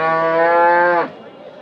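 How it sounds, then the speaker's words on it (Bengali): A crossbred dairy cow lows at a cattle market, one long, close, loud moo lasting about a second before trailing off into quiet background noise. "আরও কয়েকটি ক্রস জাতের উন্নত জাতের গাভী গরু আজকে হাটে উঠেছে।"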